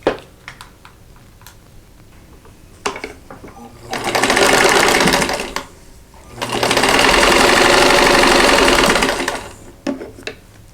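A sewing machine stitches a row of quilt block pieces for a straw flower quilt block, running in two steady, loud bursts of a few seconds each, with quiet handling noise and brief pauses before, between and after.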